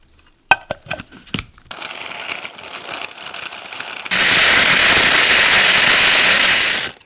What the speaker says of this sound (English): My coffee grinder.